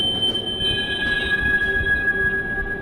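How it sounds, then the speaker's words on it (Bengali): A train jolts as its wheels squeal against the rails in a steady, piercing high-pitched screech over a low rumbling roll, close and loud, used as a sound effect in a rainy-night ghost story. "ঠিক তখনই ট্রেনটা জোরে ঝাঁকুনি খেল"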